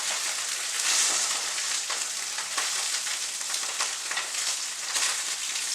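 Seabass fillets fry skin-side down in a pan, a steady close hiss and sizzle with small crackling bursts throughout, no voices.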